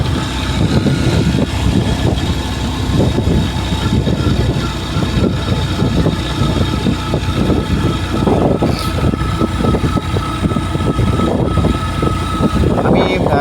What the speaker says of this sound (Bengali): মোটর সাইকেল সাধারণত এত আস্তে চালাই না আমি একটু আস্তে আস্তে চালাচ্ছি